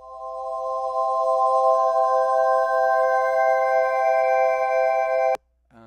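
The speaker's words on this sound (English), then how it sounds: "Granular one." A sustained bowed glockenspiel sample played through a granular patch: a steady, bright ringing tone layered with shimmering overtones, holding evenly for about five seconds before cutting off abruptly, alone with no talking.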